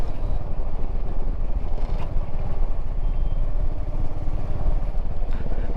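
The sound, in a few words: motorcycle riding on road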